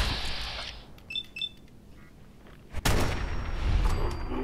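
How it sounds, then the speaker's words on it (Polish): Fallout 4 game sounds: a few small electronic chirps, then a sudden sharp gunshot crack followed by a loud, noisy blast that lingers to the end. "I jeden strzał wystarczy."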